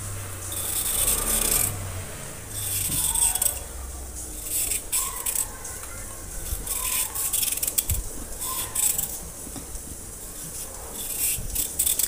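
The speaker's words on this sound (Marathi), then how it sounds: "तर आता हे ना मी सोलून घेणार आहे" A vegetable peeler scrapes the skin off a carrot in a kitchen, producing repeated short rasping strokes at close range with brief pauses between them. No one speaks.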